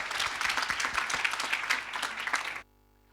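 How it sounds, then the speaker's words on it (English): An audience claps for a group of girls in a lively, steady round of applause that is fairly near and alone, then cuts off abruptly. "Can we have another round of applause for these amazing girls?"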